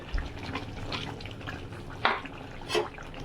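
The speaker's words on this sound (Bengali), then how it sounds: "এবার তার মধ্যে ধনেপাতা দিয়ে নাড়িয়ে" Shol fish curry with potato and tomato is stirred with coriander leaves. Quiet simmering sits under a few soft wet scrapes and sloshes from a spoon moving through the pan. No voices.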